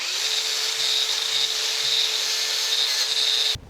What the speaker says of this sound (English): I think what I'll do is just take my angle grinder and just kind of clean this up a little bit